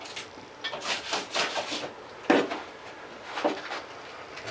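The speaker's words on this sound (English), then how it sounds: "I'm going to use this knife here and cut this out" A utility knife saws and scrapes through drywall against a ceiling edge, giving close, dry rasping strokes in an uneven rhythm with a couple of sharper scrapes.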